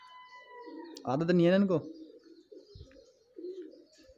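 Pigeons on a rooftop in Saudi Arabia, a fighting flock, give a short burst of throaty cooing with someone talking around it.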